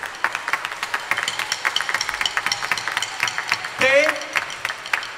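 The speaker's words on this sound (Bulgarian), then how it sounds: "благодарности и вашите силни аплодисменти за организаторите на концерта, музикална агенция Cantus Firmus" A concert audience in Bulgaria Hall applauds the organizers with steady, dense clapping that carries on for several seconds. A brief spoken word and a short bright tonal sound cut in near the end.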